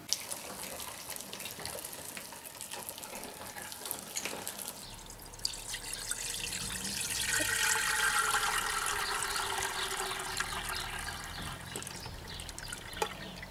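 Water runs steadily from a tap into a pot as buckwheat is readied for cooking blood sausage, a continuous hissing stream that swells in the middle and stays fairly close.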